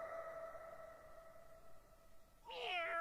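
An anime cat lets out a short, high, wavering meow near the end, following a sustained tonal hum; the sound is soft and close.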